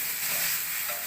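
A spice paste of onion, cumin and coriander being stir-fried in a pan after frying until red, a steady close sizzle with faint scraping throughout, no talk.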